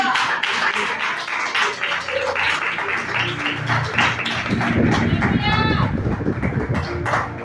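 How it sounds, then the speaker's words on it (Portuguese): A congregation at a prayer circle service claps, with a steady dense patter throughout, mixed with voices and crowd noise. "Aplauda ao Senhor Jesus Cristo"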